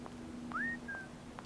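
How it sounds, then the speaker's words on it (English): A person whistles at a woman in a film scene: a short rising wolf-whistle-style tone followed by a brief second note, moderately loud over a low background hum. "Just whistling at her."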